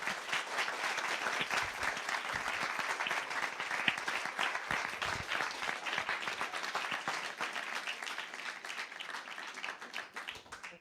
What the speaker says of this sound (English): maybe one more round of applause for Rachelle